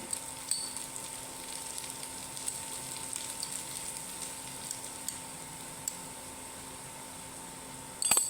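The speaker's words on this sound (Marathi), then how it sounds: "आणि हा कांदा तळून घेते" Chopped onion frying gently over low heat in a pan for a Marathi breakfast sanja, a soft steady sizzle under a faint hum, with a small clatter at the end and no talking.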